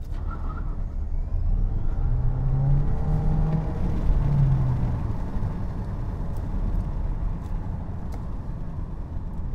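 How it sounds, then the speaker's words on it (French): An MG EHS plug-in hybrid accelerates at full throttle from a standing launch, a steady, fairly loud whirring engine and road rumble heard from inside the car, rising slightly in pitch, with no talking. "Pied à fond sur le frein, on accélère à fond et on lâche."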